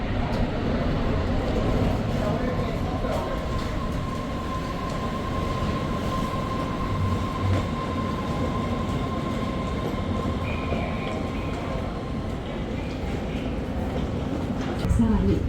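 A monorail train bound for Tokyo rolls along with a steady, loud rumble that fills the whole stretch, a sustained tone running over it for several seconds and the ride continuing without pause.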